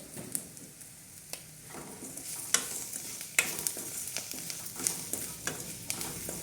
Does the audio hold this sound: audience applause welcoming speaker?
no